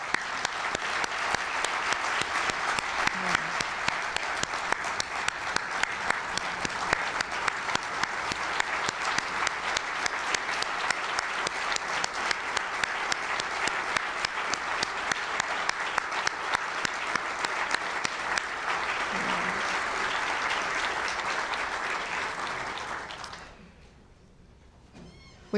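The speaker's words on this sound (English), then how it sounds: "let's have another round of applause." Sustained applause from a large audience, steady and enthusiastic for over twenty seconds, then quickly fading to quiet.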